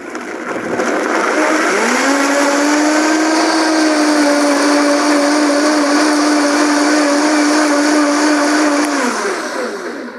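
A blender whirs through avocado tomatillo salsa, spinning up from low into a loud, steady high-speed whine that holds for several seconds before winding down, close and alone.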